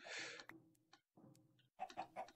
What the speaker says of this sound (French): Ça, c'est encore des poules qui se sont échappées tout à l'heure de chez moi